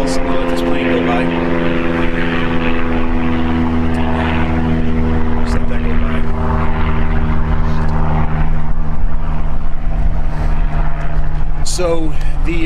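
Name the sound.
airplane flying overhead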